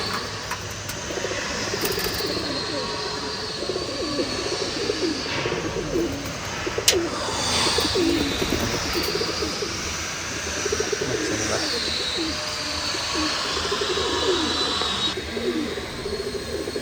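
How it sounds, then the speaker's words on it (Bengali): Pigeons coo steadily and continuously from a backyard loft where some sit on eggs and chicks. The layered calls overlap at a fairly close, even level with no talk. "কবুতরগুলা নাইমা আসছে নিচে"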